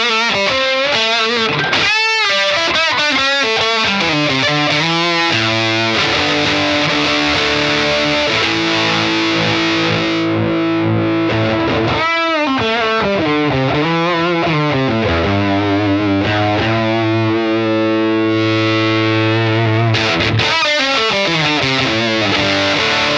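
Electric guitar played through a Beetronics Abelha fuzz pedal with the high control cranked, giving thick sustained fuzzy chords and swooping bent notes, loud and continuous with short gaps between phrases.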